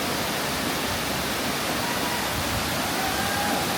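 A waterfall in North Bali roars as a dense, unbroken wash of rushing water, loud and steady for the whole stretch with nothing else on top.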